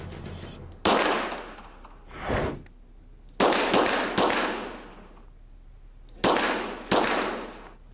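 Pistol shots from a Colt Model 1911 chambered in 9 millimeter at a target range, six loud, sharp cracks at uneven intervals, each with a short decaying tail, heard alone.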